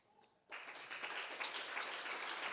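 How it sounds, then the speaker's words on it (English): Audience applause bursts in suddenly after a quiet moment and continues as a steady, dense wash of many clapping hands, moderately distant and uninterrupted. "you're giving a round of applause"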